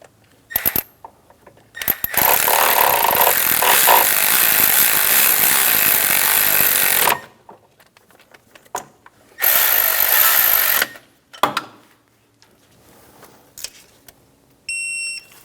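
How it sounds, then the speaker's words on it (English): On a 1994-1997 Honda Accord 2.2L four-cylinder, bolts on the timing belt cover are snugged with a power tool in two loud whirring bursts of several seconds each, separated by short clicks and quiet gaps. "Snug the bolts down."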